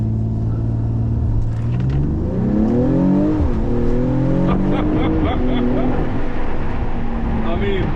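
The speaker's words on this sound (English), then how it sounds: "if we actually put this into sport handling mode and give it a little bit gas, so just that you guys can have a feel and sound for it" A 2024 Mercedes-AMG GLE 53 in sport handling mode is revved from inside with the windows down, the engine note rising and falling through a couple of throttle blips over a steady rumble, with a person talking over it.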